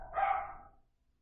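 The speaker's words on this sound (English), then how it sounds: "Sorry, those are my dogs." A single sharp bark from a household dog rings out nearby, loud and brief, then fades into silence.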